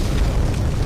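Deep, roaring rush of a dragon breathing fire in the video game Demon's Souls, a loud, sustained low rumble that fills the brief moment alone.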